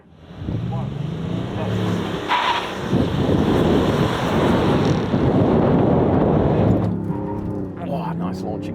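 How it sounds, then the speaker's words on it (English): SUVs, a Nissan Patrol, Toyota LandCruiser, Prado, Tank 500, Lexus LX and Ford Everest, launch in a drag race with some wheel slip. Engines roar and swell under wind buffeting and talk, then fade as voices take over. "Oh, nice launch again. A little bit of wheel slip."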